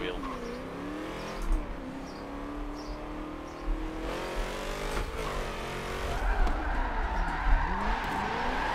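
Game V8 drift cars slide in tandem in Forza Motorsport 7, engines revving and wailing with tire skids, continuous and fairly loud, with someone talking over the engine noise.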